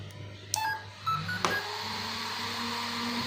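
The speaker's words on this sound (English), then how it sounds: "I switch on the remote first, then the ESC." RC car electronic speed controller on a WPL C34 with dual 370 motors powering up: a few short electronic beeps and tones over a steady low hum, fairly quiet and close.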